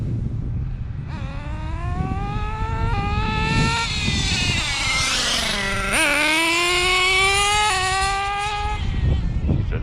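A Kyosho Inferno GT2 RC car's small nitro engine, running slightly rich, buzzes and revs up and down repeatedly in sharp rising whines, close and loud over a steady idle.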